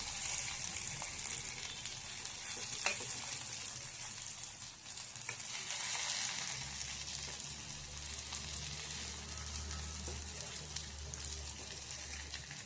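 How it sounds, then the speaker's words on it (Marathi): Methi dumpling slices (methi fal) steaming and sizzling in a covered pan, a steady soft hiss throughout with a low rumbling hum rising in the latter half, no talking. "आणि आपल्याला हे दोन्ही बाजूने छान वाफवून घ्यायचंय"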